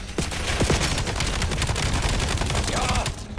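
Rapid gunfire in the video game Call of Duty Black Ops 7, dense bursts of automatic shots crackling continuously and close, with a few brief whooshes and game effects mixed in.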